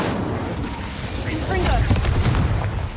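The Incendio fire spell cast in Hogwarts Legacy bursts with a rough, rushing whoosh and crackle that swells toward the end, fairly loud against faint game ambience.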